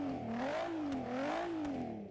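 A Porsche with a twin-turbo V6 engine revs in Forza Horizon 3, its engine tone rising and falling in smooth waves over two seconds, loud and close with no talk.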